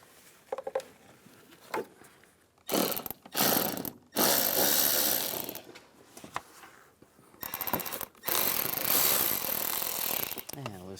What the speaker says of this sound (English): We're going to loosen up the worm clamps. Use an 8mm socket.